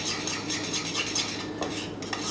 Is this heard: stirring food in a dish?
yes